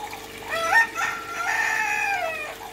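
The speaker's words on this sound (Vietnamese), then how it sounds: "cái việc gà gáy suốt đêm là cái chuyện xảy ra ở nhà mình." A rooster from a neighbouring backyard coop in Saigon crows at night. Its call is mid-distance and fairly clear: a short rising note, then a longer drawn-out crow.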